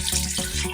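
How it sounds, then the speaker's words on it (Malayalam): Water is poured into a cooker over potatoes while making beef and potato cutlets: a steady, close gushing splash lasting under a second. "വെള്ളം നമുക്ക് ഒഴിച്ചു കൊടുക്കാം."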